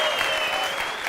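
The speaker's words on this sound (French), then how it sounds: "un tonnerre d'applaudissements pour notre hôte, Monsieur Ravish Kapoor" Studio audience applause for a guest arriving on a French TV variety show: steady, dense clapping throughout, loud and even with no pause, crowd filling the room.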